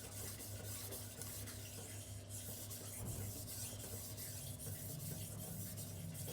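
A cleaver knife drawn along a silicon carbide sharpening stone makes a quiet, continuous rasping rub, steady and close with faint repeated strokes and no talking.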